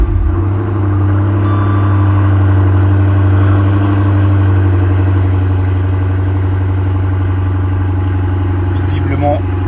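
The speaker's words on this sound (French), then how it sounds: "Je démarre le véhicule." A car with a Hemi engine, just after an oil pressure sensor replacement, starts and settles into a steady, loud, low idle that runs throughout, heard up close with a person talking over it.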